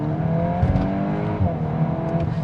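A Volkswagen Golf R engine pulls hard and loud, its steady drone broken by a couple of brief dips and thuds as it shifts through gear changes.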